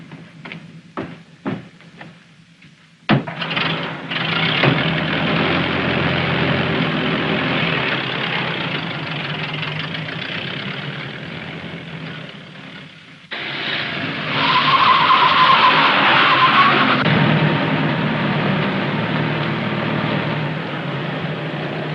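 A 1932 car engine turns over and idles, then revs and pulls away loudly with a sustained roar and tire noise, following a few sharp knocks; the engine sound stays close and dominant throughout, without talk.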